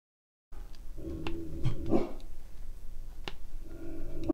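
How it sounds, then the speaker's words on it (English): Dogs barking indoors, with several sharp barks and yips scattered over a few seconds, moderately near, along with some whimpering. "the dogs are going nuts"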